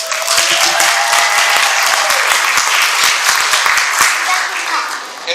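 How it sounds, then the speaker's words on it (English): Loud, sustained applause from an awards ceremony audience, dense and continuous clapping close up for several seconds with a few voices underneath. "give a warm round of applause to the screen"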